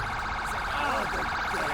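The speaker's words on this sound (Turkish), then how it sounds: "Ambulans da geliyor." Ambulance siren in the video game GTA 5 wails steadily and loudly, its rising and falling tone continuous throughout.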